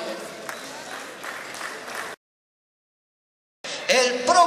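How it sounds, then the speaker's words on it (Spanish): Audience applause at a horse auction, moderate crowd clapping for about two seconds after a sale, followed by a gap and then the auctioneer's voice. "un fuerte aplauso para él."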